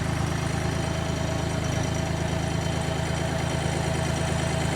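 A John Deere 855 compact tractor's engine runs steadily with a low, even drone and mechanical hum as the PTO switch is engaged, the sound holding constant and close with no talking.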